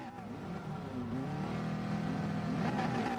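Race car engines idling and revving on the starting grid at Catalunya in a Gran Turismo-style racing video game, a layered steady drone that swells slightly, moderately loud, with no talk.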